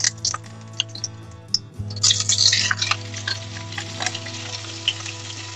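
Ghee heats in a wok and sizzles steadily, with a sharp burst of frying and stirring partway through, close and fairly loud, no voices.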